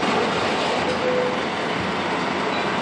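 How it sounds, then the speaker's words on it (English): Dense, overpowering machinery din fills a North Korean factory: a continuous loud roar of clanking and clanging metal, steady throughout with no pauses. "This noise is just overpowering. You've got the clanking and clanging"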